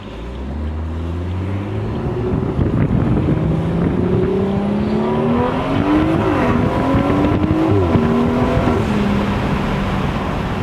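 A BMW 340i accelerates hard with its turbo whistling, the engine note climbing steadily in pitch and dropping back at gear changes, all over constant road and wind noise from inside the car, with no talking.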